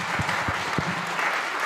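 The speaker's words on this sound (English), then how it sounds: "That deserves a round of applause." Applause at a food summit in Austin, steady scattered clapping from the audience lasting under two seconds, moderately loud with no talk over it.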